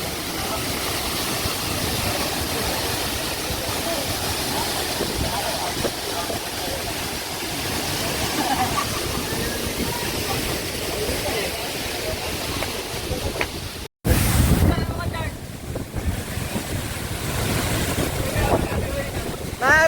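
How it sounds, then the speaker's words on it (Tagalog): A loud, roaring waterfall at Puray Falls under heavy wind buffeting the microphone, continuous throughout with a momentary dropout partway. "sobrang lakas ng hangin dahil sobrang lakas ng bagsak ng tubig"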